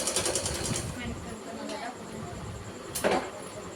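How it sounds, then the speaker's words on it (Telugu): Sewing machine stitching old dresses, a rapid mechanical needle clatter at first, fading under a steady background hum, with a brief sharp knock near the end. "పాత డ్రెస్సులు అన్నీ స్టిచ్ చేసుకుంటున్నాను."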